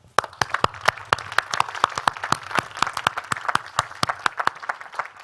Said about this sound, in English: So can we hear a round of applause, please, for Fiona Hislop, MSP